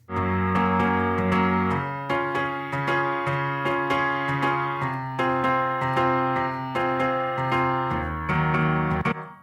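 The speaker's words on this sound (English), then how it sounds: "The chorus on piano sounds like this." A sampled upright piano plays a song's chorus of sustained chords with a steady rhythm, each chord struck clearly and ringing, no voices.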